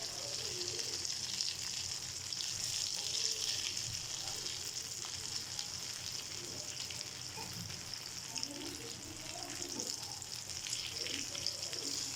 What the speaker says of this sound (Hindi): कबाब दोनों साइड से फ्राई हो गए।